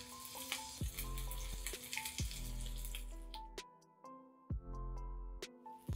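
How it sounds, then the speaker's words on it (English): Meatballs fry in a pan over a medium flame, a steady sizzle running throughout with repeated sharp knocks and scrapes as they are turned, close and fairly loud. "So I'm using medium flame, so don't add too much flame so that your meatballs won't burn. You keep flipping as they cook."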